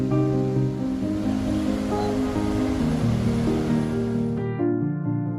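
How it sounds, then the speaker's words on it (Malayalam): Athirappilly waterfall in Kerala roars as a broad, steady rush of falling water heard from below, loud and continuous, with a faint low tonal hum beneath the torrent. "സോ ഇതാണ് താഴെ നിന്നുള്ള ആതിരപ്പള്ളി വാട്ടർഫാൾസിൻ്റെ വ്യൂ"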